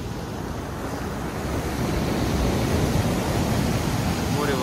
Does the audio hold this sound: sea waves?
yes